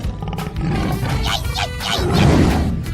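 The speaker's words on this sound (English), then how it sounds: "Tiger." A tiger in a 3D animal slide video game lets out a loud, drawn-out growling roar with rising and falling cries that fills the whole short moment.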